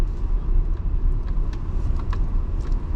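Volkswagen Amarok Comfortline pickup crossing ditches off-road, a low continuous rumble from inside the cab with scattered knocks and rattles as the wheels drop and climb.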